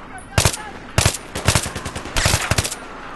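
Battlefield 3 gunfire crackles in several rapid automatic bursts, loud and close, with short gaps between volleys.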